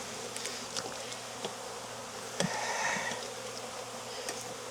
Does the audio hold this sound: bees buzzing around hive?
yes